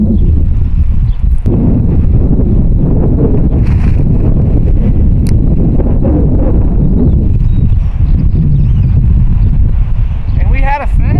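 Strong gusts batter a tarp shelter pitched on open plains, a loud, constant roar with flapping buffets, while a voice speaks over it near the end.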